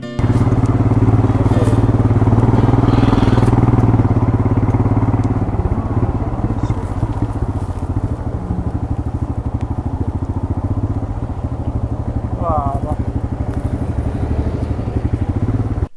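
A motorcycle rumbles loudly along a rough road under repair, its engine droning continuously close to the microphone, with thumps and rattles from the uneven surface and no talk.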